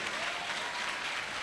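A congregation at a church worship service in Warangal claps loudly and continuously, a dense, even wash of applause filling the hall without pause.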